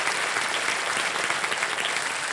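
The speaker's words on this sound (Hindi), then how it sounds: "तालियां बज जाए" Studio audience applause on the KBC Season 16 quiz show set, a dense, steady wash of many hands clapping at full volume throughout, with no voices rising above it.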